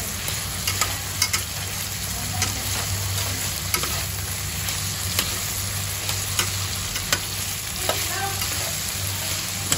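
Potatoes frying in a pan for Filipino pork menudo give off a continuous soft sizzle, broken by sharp clicks and scrapes from stirring, with a low steady hum underneath.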